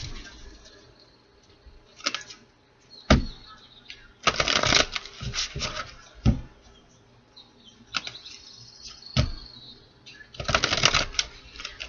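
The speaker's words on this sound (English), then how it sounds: "4 shuffles here" Tarot cards being shuffled by hand, several separate bursts of riffling and flicking with quiet pauses between, close and crisp, no talking.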